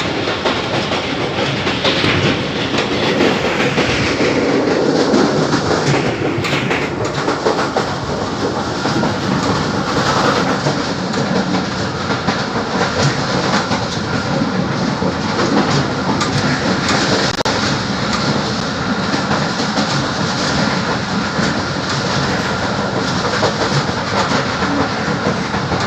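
Jaffar Express passenger train rolling through Draunkal railway station near Wazirabad, Pakistan: a steady, loud rumble with continuous clickety-clack of wheels on rail joints, heard from on board for the whole stretch with no talking.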